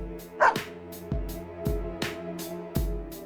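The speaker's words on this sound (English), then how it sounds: "the name of this animal is a dog" Snowy, a white dog from the fighting game Persona 4 Arena, gives a few short sharp barks in a loose rhythm, close and clear over a steady low background hum, with no talking.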